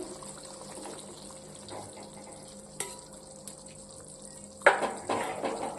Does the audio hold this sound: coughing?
no